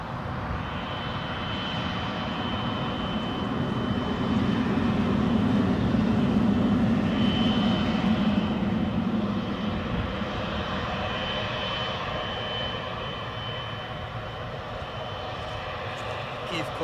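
Boeing 777 airliner taxiing quickly at Newcastle airport, a steady loud engine roar and whine swelling slightly midway, with voices talking over it.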